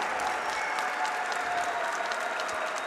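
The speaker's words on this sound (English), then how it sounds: "just a round of applause for Team Yudon and" An audience at a robotics competition gives Team Yudon a round of applause, dense and steady clapping that holds evenly throughout at a moderate level.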